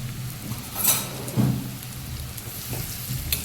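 A tempering of spices and curry leaves sputters in hot oil for taro leaf dhokla. A soft, steady sizzle carries through, with a couple of brief louder crackles and faint utensil clinks. No one talks.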